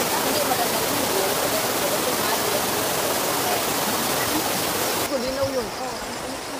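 A waterfall at Brides Pool pours in a dense, constant rushing hiss close by, with a person's voice briefly heard over it near the end as the roar dips slightly.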